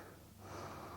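A single deep, audible breath drawn close to the mic during a yoga backbending flow, soft and airy, with no talking.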